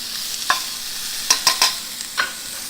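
Broccoli tossed in a hot pan sizzles under a steady frying hiss, with several sharp scraping tosses landing close and loud in uneven bursts, no voices.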